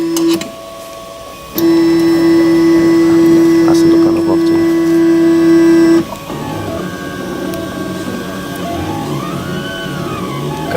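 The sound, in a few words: 3D printer running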